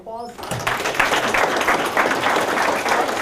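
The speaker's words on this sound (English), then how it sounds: "Give Phil a round of applause." An audience at a real estate seminar breaks into applause, a sustained, even wash of many hands clapping after a short spoken line at the start.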